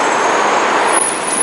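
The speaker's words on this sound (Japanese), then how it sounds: "それではバスが来ました。" New York MTA city bus pulling up to a stop, a close, steady engine and road rumble with a faint high brake hiss, no talk.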